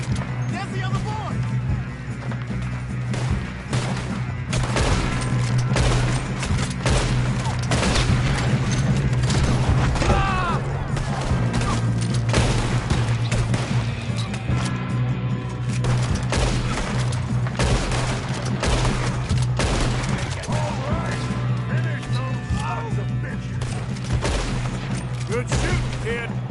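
A sustained gunfight in Red Dead Redemption 2, with scattered rifle and pistol shots cracking one after another over a steady low drone, and voices breaking in at times.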